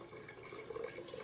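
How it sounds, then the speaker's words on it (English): Hot pear sauce poured slowly down the side of a jar, a soft, faint liquid trickle and gurgle over a brief moment. "The best way to do it is to pour it right there on the side."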